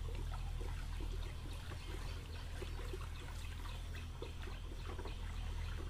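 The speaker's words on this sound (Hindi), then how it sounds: "इसका घोल हम तैयार कर लेंगे। थोड़े बहुत इसको हिला लेंगे" A stick stirs a liquid solution of IFFCO Nano DAP fertiliser in water: faint, continuous swishing and trickling with a low background hum and no voices.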